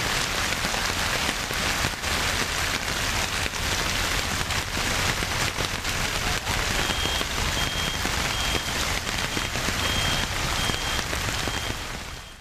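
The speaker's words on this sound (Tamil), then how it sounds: "ராமேஸ்வரத்தில் ஒரு மணி நேரத்திற்கு மேலாக பலத்த காற்றுடன் கனமழை கொட்டியது" Heavy rain lashes down with strong wind in Rameswaram: a dense, steady roar of downpour that stays loud and unbroken from start to finish, with no voices.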